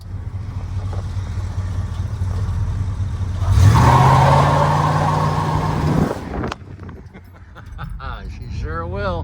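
A Plymouth Belvedere with a 383 engine idles, then roars into a burnout with a sustained high revving whine for a couple of seconds before dropping off; a voice speaks near the end.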